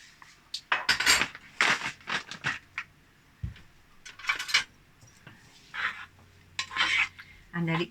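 A metal spoon stirring chia seeds into 2.5 cups of cooked fruit, repeated bursts of scraping and clinking against the pot with short pauses between strokes, close and fairly loud.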